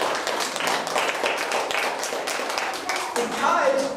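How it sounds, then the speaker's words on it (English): An audience at a public library show claps for the helpers who were on stage, a dense, even applause lasting several seconds with no talk over it. "let's give a nice round of applause for everybody that helped me out on stage"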